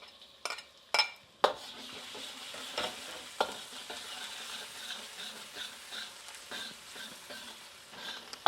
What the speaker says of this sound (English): I'm going to add the garlic and the chien, which is the fermented